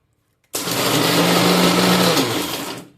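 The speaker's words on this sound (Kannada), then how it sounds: "ಹಂಗೆ ಕೇಳ್ರಿ ನಮ್ಮ ಮಿಕ್ಸಿ" A loud household mixer grinder switches on and runs at full speed, likely grinding peanut chutney, with a harsh, steady, close motor whine that lasts about two seconds before spinning down.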